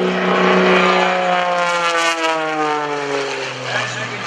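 Greg Connell's aerobatic propeller airplane roars past at an airshow, a loud, close engine drone with strong harmonics that slowly fall in pitch as it sweeps by, alone without talk.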